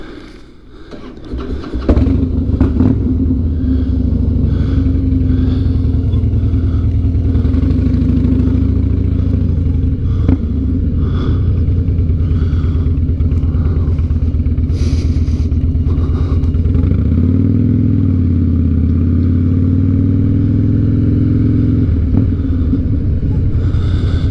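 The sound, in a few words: Harley-Davidson Night Train motorcycle engine after spark plug replacement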